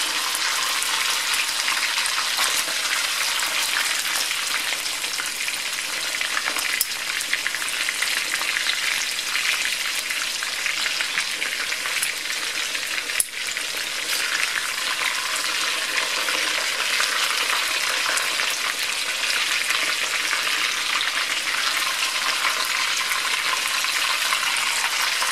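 Pork frying hard in a hot wok gives a steady, loud, close sizzle that runs the whole time without a break. Faint stirring scrapes sit inside the hiss, and one brief clatter comes partway through.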